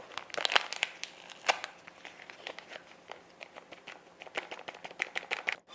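A packet of agar-agar powder is torn open and tipped into a pot of juice, giving close, crisp crinkling and sharp irregular rustles and ticks that come in quick bursts, quiet and without speech.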